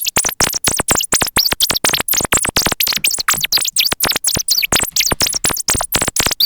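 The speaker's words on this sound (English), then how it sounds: "I think birds sound like that." Rapid synthetic chirps repeat in a fast, jittery stream, bright and close, like electronic birdsong with no voices.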